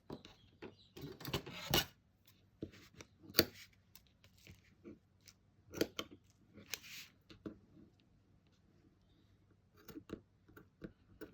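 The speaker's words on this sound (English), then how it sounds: "My scissors need cleaning, they've got sticky all over them" Scissors snip through paper tab dividers in a run of sharp, irregular clicks and cuts, close and fairly quiet, with small handling noises between the snips.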